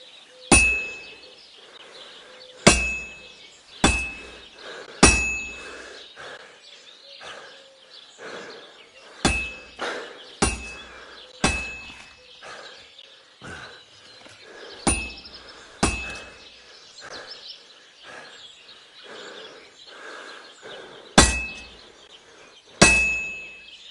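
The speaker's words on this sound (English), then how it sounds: "When I hammer a piece to a beat, the work goes by easier." Metal is hammered on an anvil at a blacksmith's forge in Kingdom Come Deliverance 2, loud ringing clangs struck in a steady beat with fainter taps between them, continuing for over twenty seconds.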